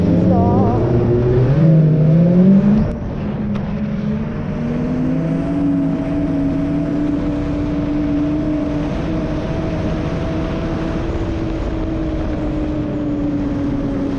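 A small side-by-side UTV engine drones steadily at close range on a winter trail, revving up briefly at the start before settling into a constant, even hum.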